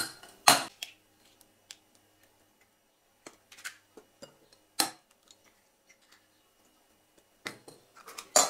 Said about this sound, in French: On va commencer par séparer les blancs des jaunes.